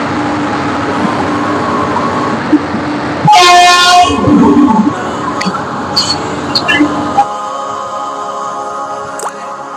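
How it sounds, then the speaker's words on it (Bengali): A train horn blasts loudly for under a second at a station platform, set against steady background rumble and noise, followed by a few sharp clanks. "এখন ট্রেনটা প্ল্যাটফর্মে দাঁড়িয়ে আছে"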